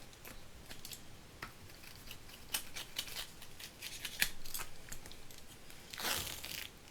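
Scissors snipping double-sided tape while making a faux leather book cover, a series of sharp close snips at irregular intervals over a quiet background, with a louder cluster near the end.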